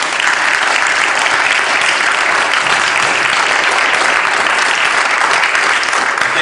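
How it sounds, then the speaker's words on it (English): An audience at a civic event applauds the participants, with steady, dense clapping at full volume from start to finish and no talk over it. "Please let's give them a round of applause."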